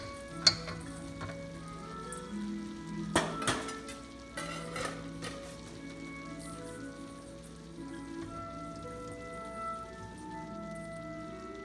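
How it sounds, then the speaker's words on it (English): Carrots, cauliflower and broccoli stir-fry in a pan for a Chinese-style chopsuey, with a soft, quiet sizzle broken by a few clattering stirs and scrapes near the start. "We give it a good stir."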